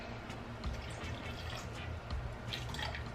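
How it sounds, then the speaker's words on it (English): Water poured into a pot of rice for Jamaican rice and peas, a steady close trickle and splash with faint dripping, no talk over it. "Just gonna add a little bit more water."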